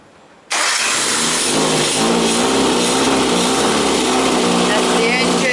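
An Austin 1300 Countryman engine catches and starts abruptly after a brief quiet moment, then runs at a loud, steady, rough idle close by.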